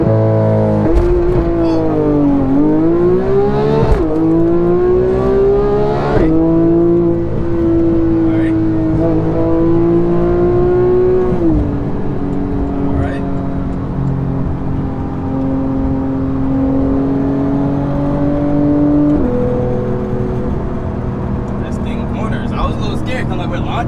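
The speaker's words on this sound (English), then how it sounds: "Launching on a corner, but it's a Porsche, so you don't gotta worry." Porsche GT3 launching hard from a standstill on a corner, engine revving high and climbing through the gears with tires spinning, loud and close throughout the run while people talk over it inside the car.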